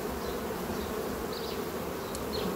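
Honeybees swarm a beehive entrance fitted with an anti-robbing corridor device, making a dense, continuous close-up buzzing hum, with occasional individual bees whining past.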